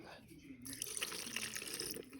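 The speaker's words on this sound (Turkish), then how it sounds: "Gargarayı açıp dökelim." Expired mouthwash glugs and splashes as it is poured out of its opened bottle, a soft, close trickle of liquid lasting a couple of seconds at low volume, with a faint voice in the background.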